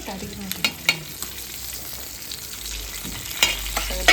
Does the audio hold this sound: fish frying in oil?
yes